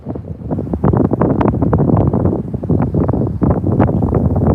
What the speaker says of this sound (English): Wind sounds crazy.